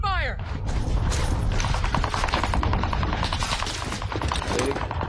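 Rapid automatic gunfire in the Warzone video game rattles in dense bursts, loud and close, with a rising whine at the start and mechanical clatter mixed in.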